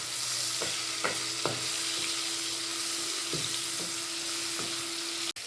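Tomatoes and spices frying in a pan make a loud, steady sizzle that runs throughout, with several short scraping stirs of a spoon against the pan and a sharp clatter right at the end.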